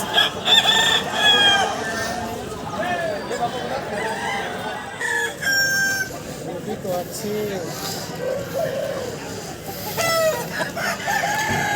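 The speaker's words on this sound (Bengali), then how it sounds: "দেখো কত বড় বড় সাইজের মোরগ" Roosters at a busy rooster market crow and cluck loudly and close by, calls overlapping with one another, while people talk continuously in the background.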